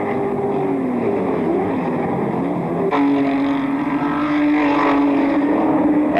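Touring race cars at the 1986 Bathurst 1000 climb toward the mountain top, a loud continuous engine roar with a sharp rise in pitch midway as cars sweep past up close.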